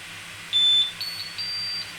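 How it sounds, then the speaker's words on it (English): Several high electronic beeps from a Flashforge Creator 3 3D printer sound over a low mechanical hum while it prints, one longer tone followed by a few shorter bleeps, fairly close. "And it just keeps beeping."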